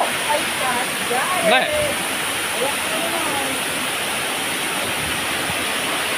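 Pinipisakan Falls pours with a steady, close, full roar of falling water that never lets up, while people talk briefly over it.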